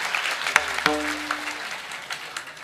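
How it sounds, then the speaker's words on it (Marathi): A crowd gathered at a spiritual discourse gives a short burst of applause, scattered claps with a tonal chime and brief voice over it, fairly close and fading out within a couple of seconds. "तुमच्यासाठी एकदा टाळ्या वाजवा"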